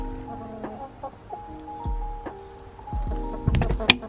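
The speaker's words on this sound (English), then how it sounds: "Currently in the backyard with the chickens." Several short chicken clucks and calls scattered across the clip, mid-distance outdoors in a backyard, with low thumps and some light background noise.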